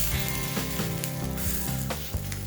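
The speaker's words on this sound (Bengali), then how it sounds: "এইভাবে দু পিঠটা একটু ভাজা ভাজা করে নিতে হবে" Chila batter sizzles and fries in a hot pan, a loud, steady crackle with faint scraping strokes of a ladle at regular intervals.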